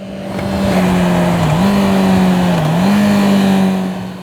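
A Honda CB650R motorcycle with E-Clutch shifts gears while riding, its engine droning loud and close, dipping and then climbing back up in revs twice under steady wind rush.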